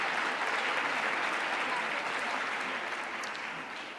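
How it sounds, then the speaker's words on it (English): Conference audience at a cultural heritage event in Naples applauding a speaker, a thick, steady wash of clapping from many hands that tapers slightly near the end. "let's give her an applause first"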